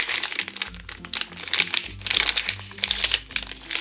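Crinkling and crunching of plastic packaging being opened around a squishy stress toy, a steady run of close crackles and rustles with small tears and taps, no voice heard.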